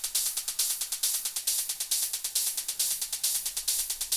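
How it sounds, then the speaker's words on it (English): Rapid, hissy synthesized hi-hat hits, made from white noise for an industrial techno track, tick in a steady rhythm, each a bright burst of noise with a quick decay, playing alone. "like very noisy hats, like almost made with wide noise."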